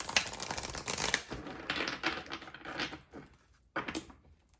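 Tarot cards are shuffled by hand close to the microphone, giving a quiet run of rapid riffling and flapping bursts that trail off into softer slides with a short pause.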